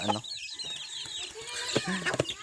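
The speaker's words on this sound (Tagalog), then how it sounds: "Pakainin na natin yung mga sisiw." Chicks cheep and chirp in high, busy bursts around a farmyard, with a few louder clucks and faint background noise.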